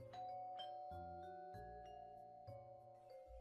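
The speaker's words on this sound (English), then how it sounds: "the doorbell to your little brick cottage rang" A doorbell rings at a little brick cottage. Several soft, ringing chime tones strike one after another and linger, all quiet and a little distant.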